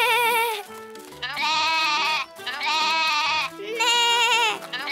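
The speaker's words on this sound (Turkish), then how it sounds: "Keçilerim biraz ötede meleğin." Cartoon goats bleating in a shepherd scene, several long wavering bleats in bursts separated by short pauses, loud and close with a light musical backing.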